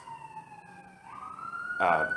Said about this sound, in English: Hopefully, you guys can hear that siren.